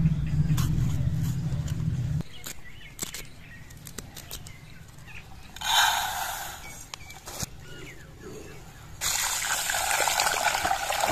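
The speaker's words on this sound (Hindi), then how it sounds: "चावलों को अच्छी तरह से साफ कर लेंगे।" Rice being washed by hand in a pot of water in a village kitchen for Afghani pulao, with close trickling, dribbling and sloshing water in uneven bursts and a louder gush near the end.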